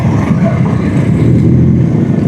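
A motorcycle engine runs steadily with a close, continuous low rumble amid the Persib championship victory parade crowd.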